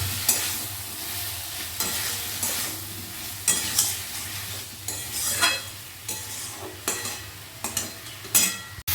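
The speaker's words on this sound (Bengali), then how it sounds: "মশলার সাথে কচুটাকে কিন্তু একটু কষে নেব।" Taro cooks in a pan with spices and Kashmiri red chili, a continuous sizzle broken by repeated loud scraping strokes of a spatula against the pan.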